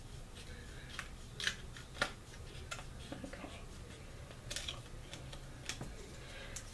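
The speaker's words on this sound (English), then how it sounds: "you're just going to take your scissors and you're going to snip from the hole to the edge" Quiet, close scissor snips cutting paper come in a loose, irregular series of short sharp clicks against a soft background hiss.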